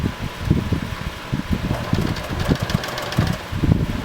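Sewing machine top stitching a denim laptop bag, with a close, steady mechanical whir and a rapid rhythmic needle thumping that runs throughout.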